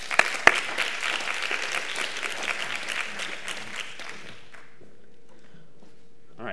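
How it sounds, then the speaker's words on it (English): A math talk event audience gives warm applause, dense and close, clapping steadily for about four seconds before it thins out and fades to near quiet. "Let's give him a warm round of applause."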